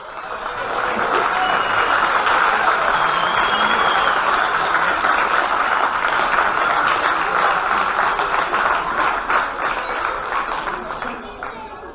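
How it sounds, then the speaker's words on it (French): Sustained applause from a large crowd at a lightsaber fencing show fills the room, loud and steady before tapering slightly at the end. "on peut les applaudir"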